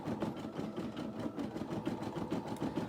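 A small home embroidery machine stitches out a faux smock design on a re-positionable hoop, giving a steady, close, mechanical whirring hum with rapid rhythmic needle pulses throughout.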